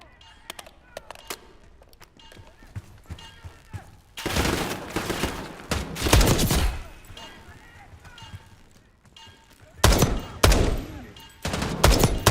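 Bursts of automatic gunfire in the Call of Duty: Black Ops 6 campaign mission The Rook: Reunion, with loud sustained volleys around the middle and again near the end, over quieter scattered shots and background voices.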